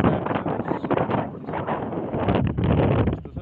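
Strong gusting wind buffets the microphone on a seashore during the rainy season, a loud continuous roar with rising and falling surges and no speech.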